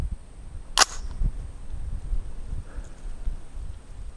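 A single sharp shot from an AR-15 semi-automatic rifle fired outdoors, one loud crack followed by a short echo and low ambient noise, with no talk.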